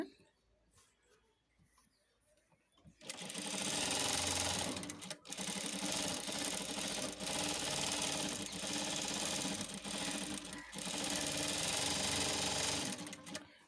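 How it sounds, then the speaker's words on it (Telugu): Sewing machine stitching thread piping onto a blouse fabric, starting after a quiet pause and running as a loud, steady mechanical whir with a few short breaks. "బ్యాలెన్స్గా నిదానంగా స్టిచ్చింగ్ చేసుకోండి"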